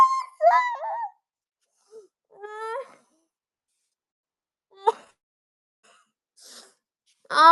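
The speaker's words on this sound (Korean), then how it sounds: "재채기 너무 하다가 안 돼." Several sneezes from a young woman indoors, spaced out with quiet gaps between them, some sharp and others softer with breathy sniffs.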